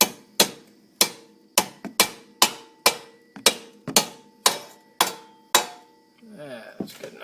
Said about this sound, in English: I'm just going to try and finish it off with the hammer.